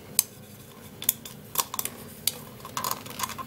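An iron spoon crushes aspirin tablets with sharp, irregular clicks and taps, some in quick clusters, heard close against a quiet background.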